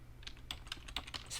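Quick keystrokes rattle on a computer keyboard, about eight light taps in a short, fast burst, quiet and close with no voices.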